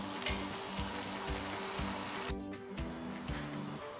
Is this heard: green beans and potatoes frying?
yes